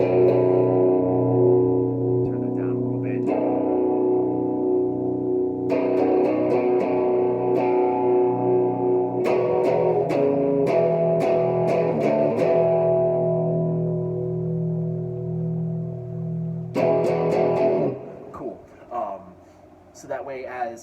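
Electric guitar played through a slight overdrive with the gain around 60 percent, sustained gritty chords that change several times and ring out with reverb, ending in a few short picked notes and a fade.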